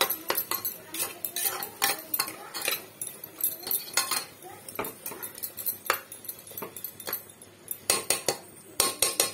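Spoon clinking and scraping in a pan while tomatoes are stirred for mutton curry, irregular sharp metallic taps and clanks spread over several seconds, close and moderately loud.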